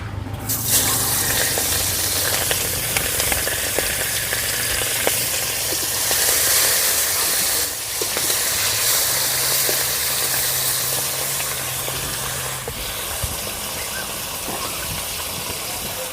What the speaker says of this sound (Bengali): তেল গরম হয়ে গেছে কড়াইতে দিয়ে দেবো মাছগুলো